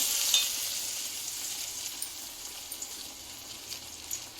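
Chana dal vadas (garelu) fry in hot oil with a soft, steady sizzle. The hiss stays faint and continuous, with a few light pops and no one talking.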